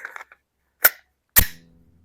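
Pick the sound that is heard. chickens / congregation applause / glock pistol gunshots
glock pistol gunshots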